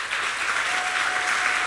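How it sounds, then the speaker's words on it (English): A conference audience gives a round of applause for the organizers and volunteers, a steady, dense burst of clapping from a large crowd that holds evenly throughout with no talking over it. "let's give everyone who is organized and volunteering for this conference a massive round of applause"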